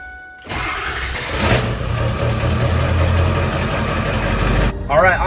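A Ford Excursion with a 7.3 diesel cranks and fires up, then settles into a loud, rough, steady rumble close by, cutting off abruptly near the end as a voice comes in.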